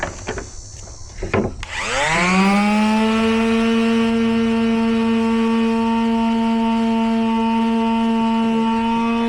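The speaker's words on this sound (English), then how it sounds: "Hit it with this sander real quick." A power sander starts up and runs steadily on a wooden deck bench, a loud, close, sustained whirring drone that holds an even pitch after a brief spin-up preceded by a few handling knocks.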